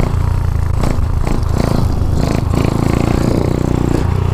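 A Honda Dax 140 motorcycle revs hard while pulling a wheelie, a loud, close, rough engine roar with wind buffeting and a few throttle surges, with no talking.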